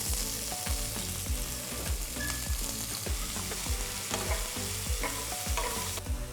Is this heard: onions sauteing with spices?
yes